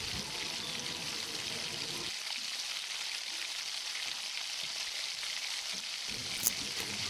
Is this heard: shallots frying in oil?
yes